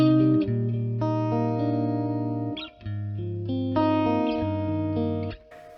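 Electric guitar chords ring out through the vibrato channel of a 1965 Fender Pro Reverb amp with a pulsing wobble, several strums with short pauses between, clean and close.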